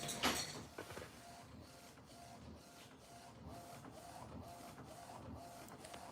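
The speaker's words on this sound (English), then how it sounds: "It's laying down a lot of ink on plain paper." An inkjet printer laying down heavy ink on plain paper, a close mechanical hum with rhythmic carriage passes and light whirring, starting with a louder paper-feed shuffle.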